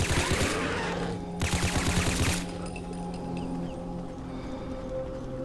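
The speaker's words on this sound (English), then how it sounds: "shoot indiscriminately at them" Rapid bursts of rifle gunfire from the Fallout 4 video game, a dense volley of shots lasting about two seconds, then a short gap and a second burst before fading into ambient game noise.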